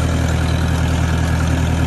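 A tractor engine running steadily in sixth gear while raking hay in cold weather, a loud, continuous low drone with a constant vibrating hum and no break.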